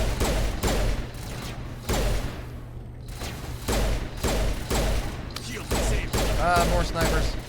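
Sniper gunfire in a Mass Effect firefight against the Geth rings out in repeated loud sharp bursts roughly every second or so, over steady low game rumble with occasional talk.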